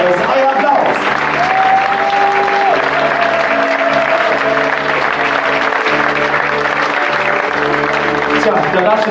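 Applause from a crowd at a Christmas swing concert, steady clapping running throughout with music tones and voices audible underneath, loud and close.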